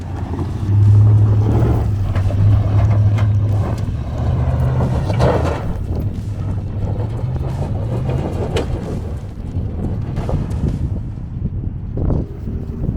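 First-generation Ford Raptor truck driving off-road, a loud engine drone with rumbling and wind buffeting, continuous over about thirteen seconds, heard close with no talking.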